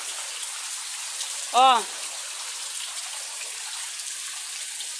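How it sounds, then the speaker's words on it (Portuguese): Heavy rain pours during a flood as water creeps toward a house veranda, making a steady, even hiss throughout. A single brief voice calls out partway through. "Olha a chuva já como que tá entrando dentro de casa."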